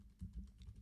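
Keys tapped on a computer keyboard in a short, quiet burst of a few soft clicks, close by and alone.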